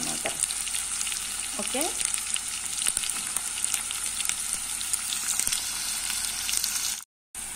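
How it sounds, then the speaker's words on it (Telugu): Onions and vegetables fry in a pan with a constant crackling sizzle and occasional utensil scrapes, moderately loud and close, with a brief spoken word and a short dropout near the end. "ఇవన్నీ మనకి కొంచెం గోల్డెన్ కలర్ వచ్చేంత వరకు ఫ్రై చేసుకోవాలన్నమాట."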